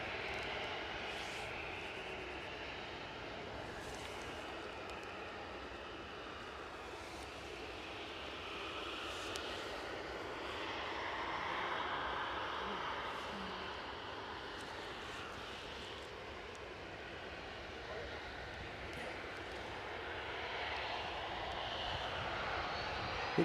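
A Loganair airliner comes in to land at Newcastle International Airport, its engines a steady, distant rumble and whine that swells slightly midway and again toward the end, with no voices over it.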